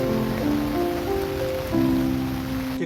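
Heavy rain and storm heard from inside a car: a loud, dense, steady wash of rain noise over a low tonal hum, cutting off abruptly at the end.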